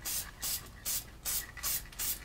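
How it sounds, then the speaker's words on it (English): A spray paint can nozzle fires in short bursts, about five sharp hissing sprays in quick succession with brief gaps between them, close and fairly loud, with no talk over them. "So after it doesn't spray, then we have to kind of clear it a little bit,"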